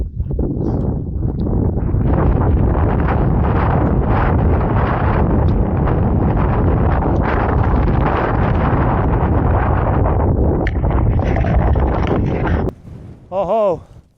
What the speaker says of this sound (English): Wind is calming down slightly